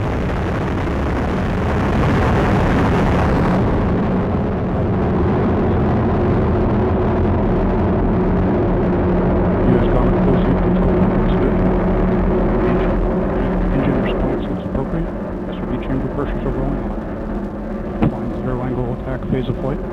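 Atlas V rocket lifting off carrying the MMS spacecraft: a loud, sustained broadband roar and rumble that swells at ignition and continues steadily, with launch commentary talking over it.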